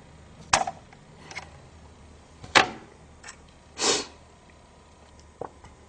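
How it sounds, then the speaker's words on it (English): Scissors snip through water purifier tubing nearby, a few sharp separate cuts and handling sounds spaced across a quiet room. "So all you have to do is get a pair of scissors,"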